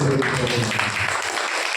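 Applause breaks out among a crowd at an all-night prayer gathering, a dense, steady patter of many hands clapping throughout with no talk over it.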